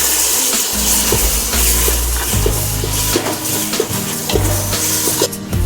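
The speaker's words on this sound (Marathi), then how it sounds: "आपले मसाले चांगले भाजून होण्यासाठी आपण थोडं पाणी ओतूया" Loud, close sizzling and spluttering as water hits hot spices in a pan for vegetable pulao, with bursts of stirring and bubbling throughout.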